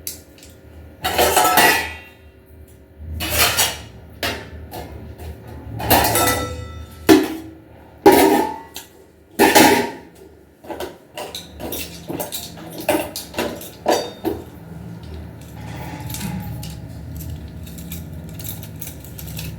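Metal forks and dishes are set into a plate stand while a home kitchen is being cleaned: sharp clinks and clatters come in irregular bursts, some loud and close, then a run of quicker, lighter taps.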